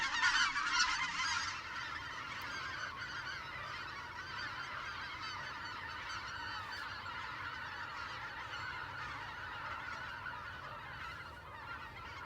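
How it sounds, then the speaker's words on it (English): Many geese honking together at a distance over a pasture, a dense chorus of overlapping calls that is loudest at the start then continues steadily. "This time of year, the geese love landing out in that pasture."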